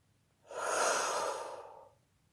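A single long, breathy exhalation during a relaxation exercise, soft and steady for about a second and a half, close to the microphone with no talk over it.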